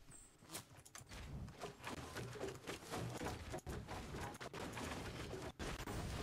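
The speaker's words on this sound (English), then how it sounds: "Oh, I'm being shot at." Gunfire in the video game Fortnite, dense and continuous shots and impacts over a busy game soundscape with footsteps, with no talk over it.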